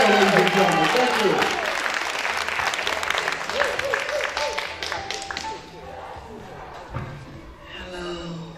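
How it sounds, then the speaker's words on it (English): A comedy club audience applauds loudly for a performer named Sonia Cinderella, dense clapping that fades over several seconds while a host speaks over it near the end. "She deserves a big round of applause"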